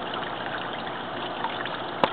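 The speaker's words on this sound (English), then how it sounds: "aerator for the fish, so they can get plenty of oxygen" An aquaponic system's aerator bubbles water in a fish tank, giving a steady close bubbling and trickling wash with one sharp splash near the end.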